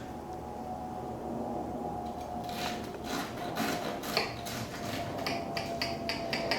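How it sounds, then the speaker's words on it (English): A knife cuts through the crispy golden rice crust of Persian tahchin, a series of dry crackling, rasping crunches close up that grow busier toward the end, alone without talk. "Now is the time to cut the Tahchin."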